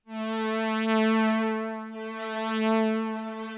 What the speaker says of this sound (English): nice, gorgeous, infinite reverb, apparently